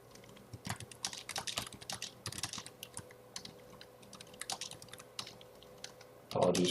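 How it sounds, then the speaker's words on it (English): Steady typing on a computer keyboard while writing an Outlook meeting email, quick irregular key clicks in bursts, close and fairly quiet, ending with a louder clatter. "apologies for the typing."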